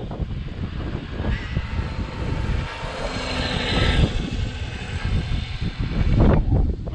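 A Traxxas X-Maxx RC car makes a warm-up pass, its electric motor whining and rising as it nears, loudest midway and again near the end, with rough wheel and surface noise and a steady outdoor rumble.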